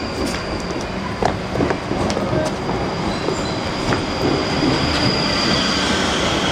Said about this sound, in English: Let's film some trains.